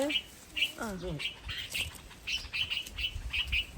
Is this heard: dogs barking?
no